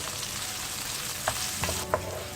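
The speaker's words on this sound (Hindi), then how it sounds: "प्याज को भी अच्छी तरह से चिकन के साथ सौते कर लें" Chopped onion sautéing with chicken in a pan: a continuous close sizzle, with a few soft scraping stirs and clinks from a utensil near the end.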